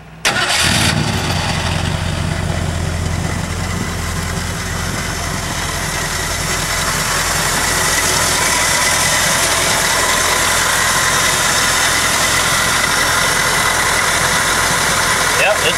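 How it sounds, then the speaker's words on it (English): A car engine started and left idling in park with the transmission in park, a loud steady mid-pitched hum and vibration after a brief start-up burst, continuing unchanged to the end. "You first have to turn on the engine and make sure it's in park."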